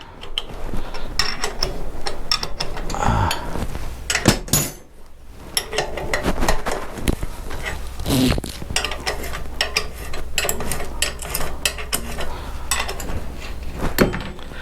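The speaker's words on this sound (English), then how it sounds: "We've got to take the shock absorber off because we can't get to the bolt." Hand tools work on a shock absorber and its bolt during a restoration, with ratchet clicks, metallic clinks and knocks of tools against parts in an irregular rhythm, close and moderately loud.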